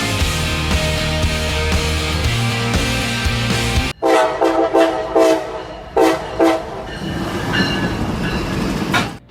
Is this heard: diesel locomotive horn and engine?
yes